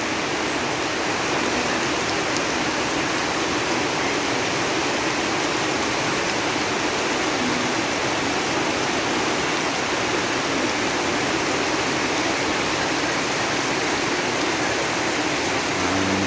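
Steady, dense downpour of heavy rain hissing evenly throughout, loud and continuous with no voices.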